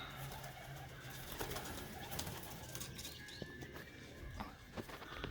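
Pigeons coo softly in a backyard garden near a birdbath and nest boxes, a low repeated murmur amid faint rustling and footsteps, with no talking.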